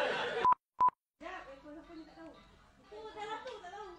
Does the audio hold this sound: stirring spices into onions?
no